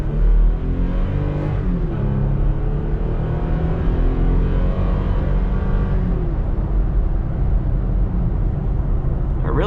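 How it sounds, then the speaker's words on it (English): A 2021 Toyota Tacoma TRD Off Road with its 3.5L V6 accelerates from inside the cab, the engine droning loud and steady as pitch climbs through a gear, eases, then rises again. "Let's accelerate here with ECT power off, so you guys get a feel for what that would be like under a normal scenario."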